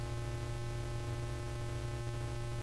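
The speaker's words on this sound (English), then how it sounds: "It sounds like static." Harsh static-like music from the video game Crazybus, a dense buzzing hiss with a steady low drone that runs without a break, fairly quiet and unaccompanied by speech.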